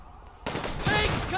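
Gunfire in GTA V with the LSPDFR police mod starts abruptly after a quiet moment, then a continuous sharp crackle of shots mixed with game noise runs to the end.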